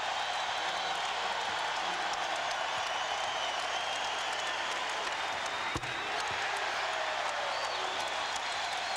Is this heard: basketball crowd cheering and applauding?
yes